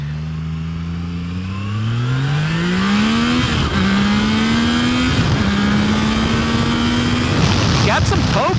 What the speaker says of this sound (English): I'm flicking the throttle open just a teensy bit